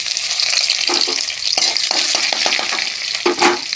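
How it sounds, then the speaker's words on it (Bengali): Chopped onion frying in hot oil in a wok, a loud, steady sizzle that fills the whole clip, with a few stirring scrapes breaking through near and clear. "পেঁয়াজ কুচি দিয়ে দিলাম বন্ধুরা।"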